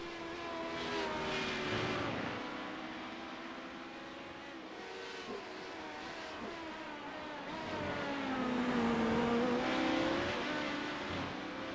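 Race car engines roar and whine in a sports car racing video game, a steady loud drone with rising and falling pitch as cars accelerate and pass, no voices over it.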